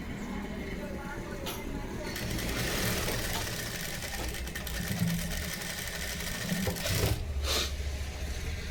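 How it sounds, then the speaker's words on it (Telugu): A sewing machine stitches thread piping onto a blouse, a steady mechanical whirring hum that swells and eases over several seconds, with faint background sounds and occasional clicks. "ఇలా చెయ్యి వెనక చేసి చక్కగా స్టిచ్చింగ్ చేసేసుకోండి"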